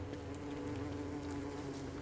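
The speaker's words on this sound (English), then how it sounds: "Got a little bee biome here." Steady insect buzzing from a bee biome in the survival game Don't Starve: Reign of Giants, a dense continuous drone of many bees with no voices.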